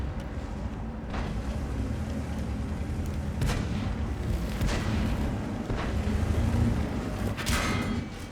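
Tank guns fire gold shells in World of Tanks, several heavy booms spaced a second or two apart over a continuous engine rumble, with no talking.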